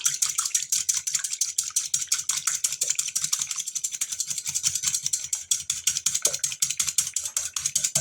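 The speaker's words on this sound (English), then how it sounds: "now we're going to whisk this up till it's nice and frothy" A pecan coating is whisked briskly in a bowl until frothy. Rapid, even metallic ticks of the whisk carry on steadily and close, with no speech.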